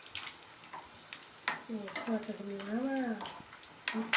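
Food sizzles and crackles in a pan as it fries until reddish-brown for Kuwaiti-style majboos biryani, with stirring noises and a voice talking over the frying.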